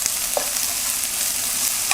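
Celery, onion, tomato and chili stir-fry in a little oil with a constant close sizzle and an occasional faint scrape of stirring.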